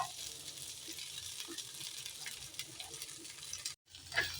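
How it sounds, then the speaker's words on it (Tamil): About 100 grams of cut okra fry in oil in a pan, giving a soft, steady sizzle with faint stirring, briefly cutting out near the end. "நான் வந்து ஒரு 100 கிராம் வெண்டைக்காய் வந்து வறுத்து எடுத்துக்கலாம்"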